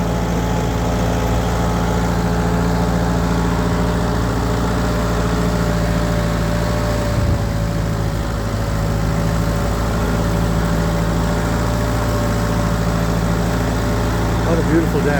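A 1948 Ford 8N tractor engine runs at a steady low drone with a constant hum and no change in pace, heard outdoors on a dirt road.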